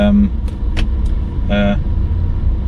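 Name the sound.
cars in a traffic jam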